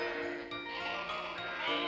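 A lamb bleats on a school farm, a steady close bleating call that carries over a dense, busy farmyard background with no talk.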